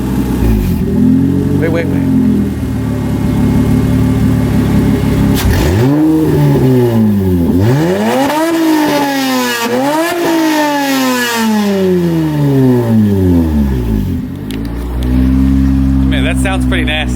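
A loud J-series engine swapped into an EK Honda Civic cranks and fires up, then revs repeatedly with rising and falling pitch before settling to idle; a voice briefly speaks.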